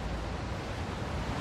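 In the video game Still Wakes the Deep, ocean waves wash steadily beneath an offshore platform, a continuous dense rush of surf and wind with no speech over it.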